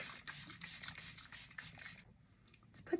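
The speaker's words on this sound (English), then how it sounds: "Setting spray." Makeup setting spray spritzed from a pump bottle in a series of quick, airy hissing bursts, fairly close and quiet, with no talking.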